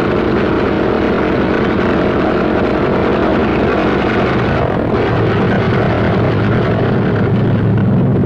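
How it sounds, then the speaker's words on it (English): WWII propeller fighter aircraft taxiing out in pairs, a steady loud engine drone throughout with a deeper rumble swelling toward the end. "Second pair taxis out, Goss and Burgess."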